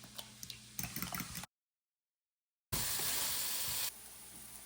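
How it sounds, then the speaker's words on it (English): Bacon and ground beef sizzle in a pan, a soft crackling hiss broken by a full silent gap, then a louder burst of frying that settles back to a quieter sizzle. "Cook up the bacon and the ground beef"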